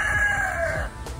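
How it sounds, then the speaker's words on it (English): A rooster riding in a shopping cart in the Florida Keys crows once, a loud, close, drawn-out cock-a-doodle-doo that fades at the end. "So we just had a rooster in a shopping cart."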